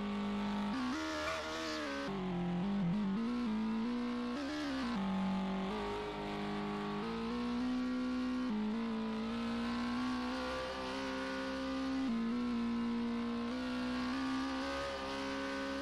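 A Roblox car engine runs steadily at a low, even hum throughout, with a couple of brief rises in pitch like light revving near the start; quiet and continuous, with no talking.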